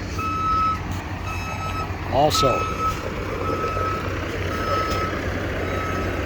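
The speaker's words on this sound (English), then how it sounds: "You see the dump truck, they're coming in." A dump truck reverses with steady, repeating backup beeps while hauling dirt off an excavation site, heavy engine noise rumbling underneath and someone speaking briefly over it.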